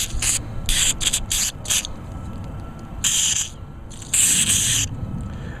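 Aerosol cleaner sprays into a Briggs and Stratton Pulsa Prime carburetor in a rapid series of short, close hissing bursts, ending with two longer sprays over a constant low hum.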